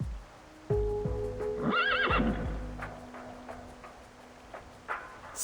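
Horses in the video game Reverse: 1999 give one loud, close, wavering whinny in the middle, with faint hoof clip-clops and a low ambient backdrop around it.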